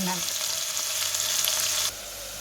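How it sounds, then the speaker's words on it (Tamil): Ingredients sauté in a hot pan for a sardine fish curry, giving a steady close sizzle that eases to a softer frying hiss near the end. "இது வதங்கி வரட்டும் வதங்கி கொண்டு வர காட்டுறேன்"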